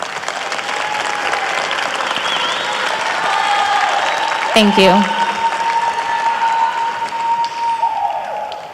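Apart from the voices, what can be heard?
audience applause for student artists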